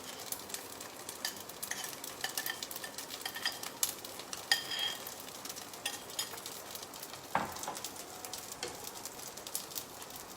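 Sauce heats in a pan with a soft, steady sizzle and occasional stirring scrapes, faint and continuous with no voices.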